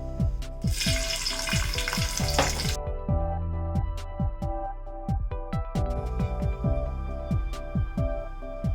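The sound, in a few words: cashew nuts frying in hot ghee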